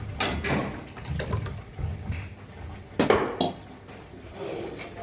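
Strained cooking water from boiled lentils poured into a pan for a Maharashtrian festive amti, with splashing and a few clinks of metal pots and utensils, no voices.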